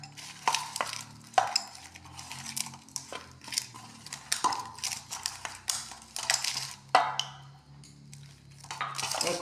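Rice flour being worked into dough with water by hand in a bowl, giving soft irregular squelches, scrapes and occasional light clinks of the vessel, close up and fairly quiet, with no talking.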